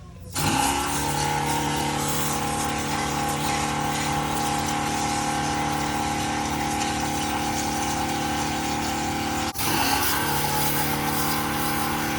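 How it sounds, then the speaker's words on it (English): A water sprayer hisses and gushes steadily onto a walk-in cooler, a constant loud pump-like rush that breaks briefly near the end and resumes; no speech. "I'm gonna go get my sprayer."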